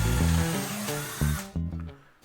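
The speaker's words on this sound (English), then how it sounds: "This is what drilling in the wood is supposed to sound like." A power drill bores into wood in loud bursts, revving and cutting out several times in quick succession, close by with no voices.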